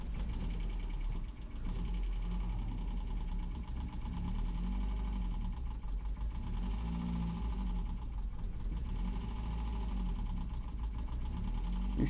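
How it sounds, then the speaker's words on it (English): A loud, steady engine idle drones inside the cabin of a Willys FC-150 tow truck with the engine cover off, deep rumbling with a constant rattling knock throughout, no voices. "It's very loud inside the cabin because I don't have the engine cover on."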